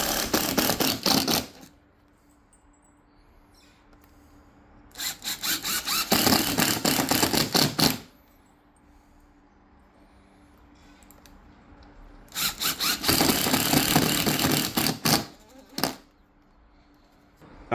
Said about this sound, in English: we're going to take these screws, which are color match, they look great, and we're going to stick them right through these rear holes